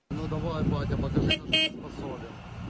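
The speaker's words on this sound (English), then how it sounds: "it's always so weird to hear that the Leopard 2's horn sounds like a moped horn" A Leopard 2 tank's horn gives a thin, moped-like toot, sounding in two short bursts over someone talking.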